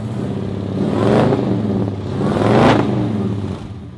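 A 1948 Chevrolet pickup with a supercharged 6.2-liter LS engine running on hydrogen revs its exhaust twice, each loud, close roar swelling up and falling back, with a brief dip between the two pulls.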